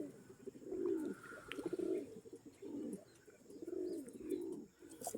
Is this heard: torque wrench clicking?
no